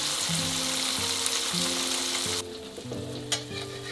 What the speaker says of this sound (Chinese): 小火慢慢煎。